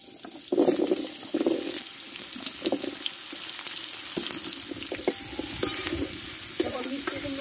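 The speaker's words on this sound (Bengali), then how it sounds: "এই তেলে আমি এবার মিষ্টি কুমড়োটা কষে নেব।" Sweet pumpkin pieces frying in hot oil in a pan, a continuous close sizzle broken by repeated stirring and scraping knocks, with a faint watery splash in places and no talking.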